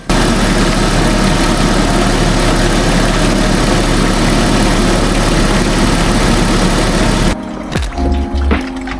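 An Audi A4 Cabriolet 2.4 V6 engine idles steadily with a constant low rumble and hum, then cuts off near the end, leaving quieter clunks and faint noises.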